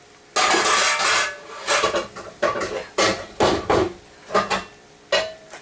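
Pots and pans clatter and clank in a series of loud, uneven metallic knocks as someone rummages through kitchen cookware looking for a skillet; no voices.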